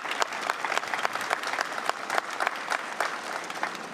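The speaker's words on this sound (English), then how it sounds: "give her a round of applause." Sustained applause from an audience at a governor's bill signing event, many hands clapping in a dense, even patter with sharper individual claps standing out throughout.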